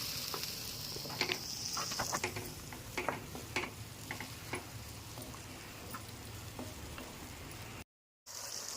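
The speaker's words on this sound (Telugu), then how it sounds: "మసాలా మొత్తం ఫ్రై చేసుకోవాలి పచ్చి మసాలా ఆడుకున్నాం కదా కొద్దిగా నూనెలో మసాలా అనేది ఉడికించాలి" A freshly ground raw masala paste fries in a little oil for a small-fish curry, giving a continuous soft sizzle with scattered pops and stirring ticks. It stays faint and close, with a brief dropout near the end.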